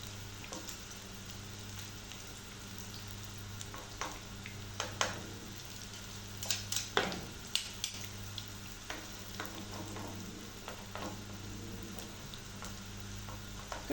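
Egg mixture sizzling and frying steadily in a pan, a continuous close crackle with a few soft clicks and utensil touches, no voices.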